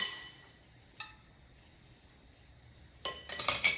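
Dishes being shifted aside on a kitchen counter: a soft clink near the start, another at one second, then a burst of clattering ceramic and glass knocks at the end, close by with no talking.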